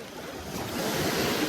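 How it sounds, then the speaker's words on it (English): Small lake waves wash and lap against the shore, a soft continuous swash that builds slightly over a brief moment, with faint wind and no voices. "I like the sound of the waves."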